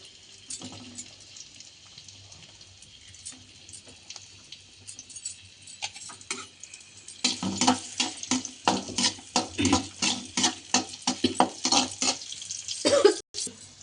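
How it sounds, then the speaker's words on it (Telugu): Finely chopped onions frying in oil start as a faint hiss, then turn louder, with a rhythmic run of scraping and stirring strokes in the second half and a brief clatter near the end. "ఆయిల్ వేసుకొని దీంట్లో ఆనియన్స్ సన్నగా చాప్ చేసుకొని బాగా ఫ్రై చేసుకోవాలి."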